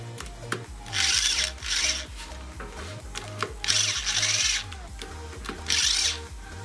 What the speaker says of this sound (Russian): присоединить руль, притянув металлическую крышку шестигранными болтами